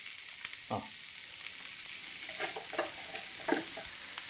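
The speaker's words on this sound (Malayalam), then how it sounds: "അതിലേക്ക് 2 വലിയ സവോള ചെറുതായിട്ട് അരിഞ്ഞത് ഇട്ടോ." Finely chopped onions fry in hot coconut oil for egg bhurji, giving a soft, continuous sizzle with a few light clinks and scrapes of a spoon against the pan, fairly quiet and without talk.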